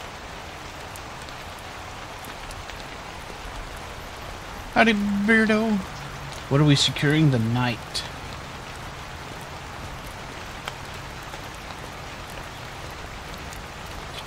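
Steady rain in a video game hisses evenly throughout, with a couple of brief spoken lines breaking in around the middle.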